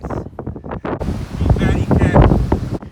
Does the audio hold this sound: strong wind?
yes